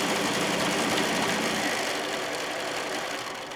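A sewing machine back stitching and then running a seam on a fat-quarter fabric bag, a steady close mechanical whir that continues without pause for the whole stretch.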